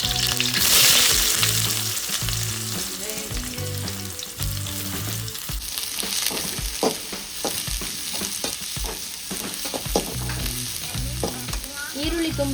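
Onions and a green chili fry in a pan for egg rice, making a continuous sizzle with frequent stirring clinks and scrapes over background music.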